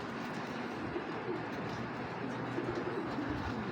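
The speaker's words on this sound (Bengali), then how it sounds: "এটা একটা মাদি কবুতর" A female racing pigeon coos softly in a loft, a few low throaty calls rising faintly over steady background hiss and distant ambient noise.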